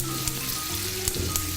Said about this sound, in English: this is sauteing off really nicely and sealing off